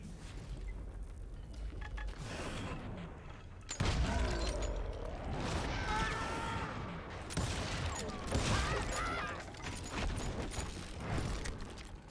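Pistol fire in the wild west video game Call of Juarez: Gunslinger, a steady run of loud shots crackling across the whole stretch alongside game effects and mechanical clatter.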